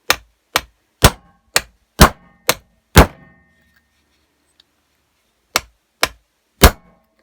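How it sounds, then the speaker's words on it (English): A new bearing on a Stihl KM94rc engine is tapped down with a socket and hammer, giving about ten sharp, close metallic knocks in two quick runs separated by a pause. "So if I can just tap that down, use that socket again."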